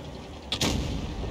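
A single heavy tank cannon shot in World of Tanks Blitz, one sharp booming report against faint background rumble.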